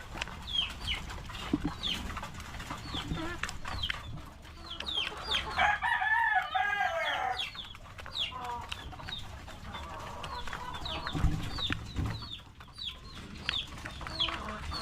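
Chickens and young chicks on a farm cluck, peep and chatter continuously nearby, with a rooster crowing loudly once in the middle.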